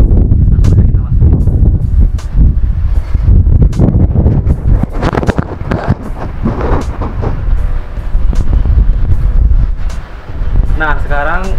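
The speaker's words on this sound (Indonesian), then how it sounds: "di sini ada angin banyak ya, apakah suara anginnya masuk ke dalam situ apa enggak" Strong outdoor wind buffets a Boya BY-MM1 cardioid camera microphone, producing loud, continuous low rumble and irregular thumping bursts throughout, with a brief warbling tone near the end.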